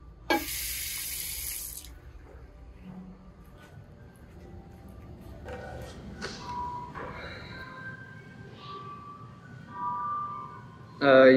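Water runs from a tap into a hand-wash sink at an Indonesian restaurant in Jeddah. The flow is steady and moderate, with thumps, clatter and faint voices of the room around it.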